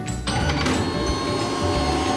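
A Seaory S20R card printer prints the back of a card, giving a steady, close mechanical whirring and rattling that starts after a brief quieter moment and runs on evenly with no talking.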